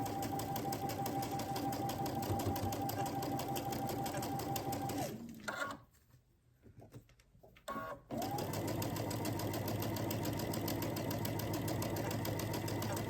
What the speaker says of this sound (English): So we're just going to flip that white piece over and then sew it to these squares.